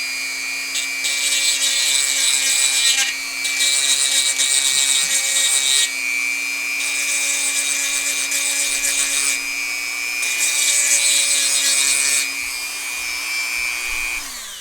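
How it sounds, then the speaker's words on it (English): A Dremel rotary tool fitted with a small grinder wheel on a mandrel grinds wood for a tooth fairy box. A steady motor whine runs throughout, with four loud gritty grinding bursts of a few seconds each, close up and without talk. "You can also take a Dremel tool. Got the little grinder wheel there,"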